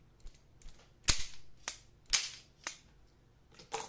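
A hard fishing lure is shaken so its internal rattle system clacks, producing sharp, close clicking knocks at irregular intervals of about half a second, with no voices.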